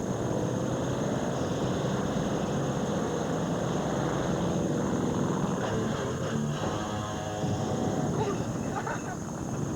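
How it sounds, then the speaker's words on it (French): A small airplane passes overhead in a rural Quebec outdoor scene, its steady engine drone filling the background under loud voices and party noise. "Tiens, l'avion!"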